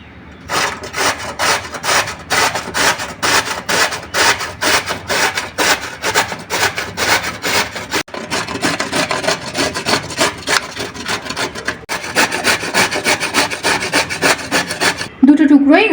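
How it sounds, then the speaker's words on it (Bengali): Raw papaya is rubbed by hand against a kitchen grater in fast, regular rasping strokes, close and loud, continuing steadily with only brief pauses. "এবার ঘষে নেব।"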